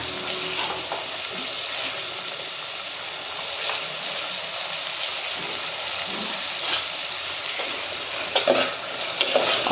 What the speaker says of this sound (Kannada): ಈಗ ತರಕಾರಿ ಎಲ್ಲ ಹಾಕಿ ಸ್ವಲ್ಪ ಸಾಲ್ಟ್ ಹಾಕಿ ಮಿಕ್ಸ್ ಮಾಡ್ಕೊಳ್ಳೋಣ